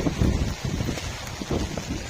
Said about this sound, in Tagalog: Super heavy rain.